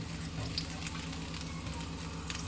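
Finely chopped garlic, about half a teaspoon, frying in hot oil in a pan over full flame, giving a steady soft sizzle with faint stirring, close and continuous with no talk.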